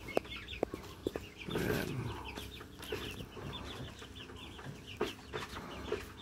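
Young native chickens clucking and peeping softly inside a cage, with scattered short calls and light rustling at close range; someone speaks briefly.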